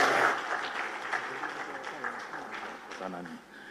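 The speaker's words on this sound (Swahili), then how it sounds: "Makofi mengi sana kwa Mheshimiwa Rais." An audience at a Tanzania Gender Bench book launch applauding President Samia, moderate scattered clapping with voices talking over it.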